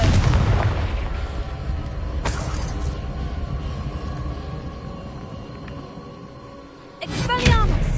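In the Hogwarts Legacy video game, a Confringo fire spell blasts with a loud booming impact at the start, followed by rumbling decay and further sharp bursts later on.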